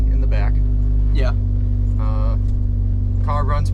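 A 1968 Austin America runs steadily as heard from the back seat, a constant low engine drone filling the cabin while voices chat over it in short bursts.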